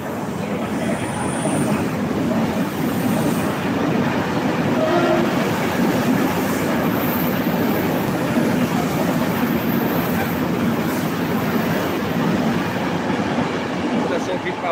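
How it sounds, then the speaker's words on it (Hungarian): A train travels along a railway, heard from inside as a loud, steady rumble and rolling clatter that continues unbroken throughout, with a faint high whistle-like tone early on. "Vasúton vagyok"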